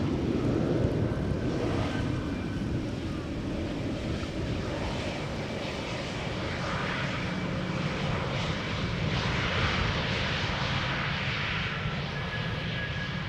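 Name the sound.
Aegean airliner landing at Schiphol Airport, likely from Athens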